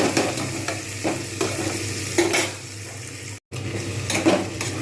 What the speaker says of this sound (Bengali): আলুগুলোকে আমি বেশ কিছুক্ষণ ধরে ভেজে নিলাম।